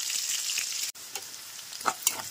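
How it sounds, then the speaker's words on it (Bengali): Chopped onion sizzles in hot oil seasoned with cinnamon, a close, steady frying hiss broken by a brief gap and a few stirring scrapes toward the end. "এইবারে আমি পেঁয়াজ কুচিটা ভাজতে দেবো।"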